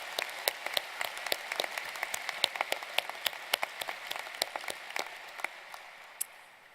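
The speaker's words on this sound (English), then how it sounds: "Let's give them a round of applause." Audience at a 2018 Carlson School of Management graduate commencement ceremony applauding the faculty, a steady spread of moderate clapping from a large hall with sharp individual claps standing out, tapering slightly toward the end.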